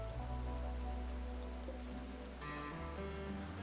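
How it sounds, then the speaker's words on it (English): Rain falls steadily on surfaces, a soft continuous patter heard alone at low level, with a constant background hum beneath it. "Be nice if it would stop raining, too."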